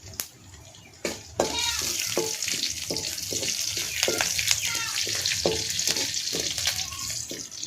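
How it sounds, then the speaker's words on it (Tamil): Turkey berries and onions sizzle as they are sautéed in a pan, a loud, steady frying hiss broken by repeated scraping and stirring knocks from the spoon. "அதனால இப்போ வந்து சுண்டைக்காயை வதக்கிக்கிறேன்."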